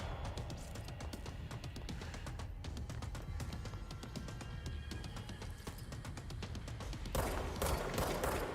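Sustained rapid automatic gunfire in the video game Control, a dense rattling fusillade that keeps up throughout and grows harsher near the end.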